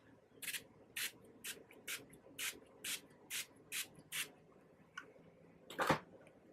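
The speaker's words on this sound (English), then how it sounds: "I'm just going to use my Australis finishing spray" About a dozen short bursts of an Australis makeup finishing spray bottle fire in a steady rhythm, close and soft, ending in one longer, louder spritz.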